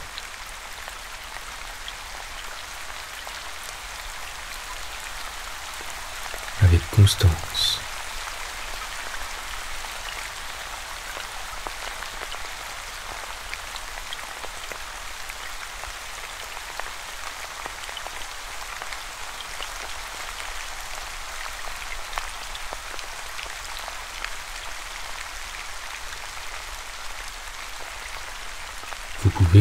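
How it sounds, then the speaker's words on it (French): Raindrops patter steadily for half a minute as an even, close wash of rain on a surface, with a short louder burst of drops early on and a soft voice speaking briefly over it. "Les gouttes de pluie continuent de tomber à leur rythme,"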